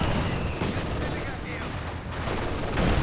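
LMG Grenadiers fire in Company of Heroes 2, with rapid machine-gun bursts crackling over a thick backdrop of battlefield booms. The fire is steady and fairly loud, with a swell near the end.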